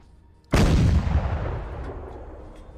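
A single loud gunshot in Arma 3, a sharp close blast at once that rolls into a long reverberant boom and tail, fading slowly with no voices.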